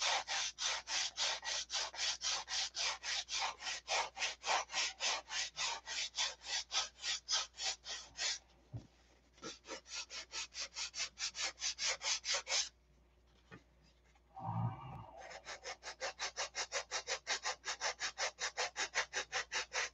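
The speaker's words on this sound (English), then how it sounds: "just sand down till it touches the foam" A foam wing core for an Aegis SE model is sanded by hand in rapid rhythmic back-and-forth strokes, close and dry, with a couple of brief pauses and a thump before the scraping resumes.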